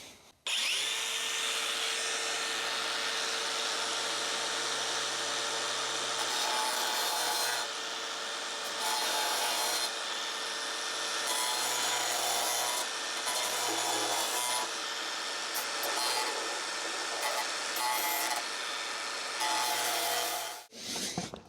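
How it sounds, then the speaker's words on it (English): Angle grinder cutting into metal during a repair of a broken tumble dryer door, a loud continuous high whine that holds steady for about twenty seconds with brief dips in intensity, then cuts out near the end. "Means I can get the L grinder out again."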